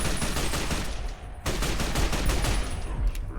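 Gunfire in the video game Fallout: The Frontier rattles in dense, rapid volleys, loud and nearly continuous, with a short dip before another heavy burst resumes.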